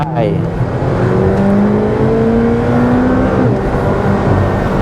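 A McLaren Elva hypercar on a test drive pulls hard, its engine note climbing steadily in a loud, close, continuous roar with wind rush, while people talk over it.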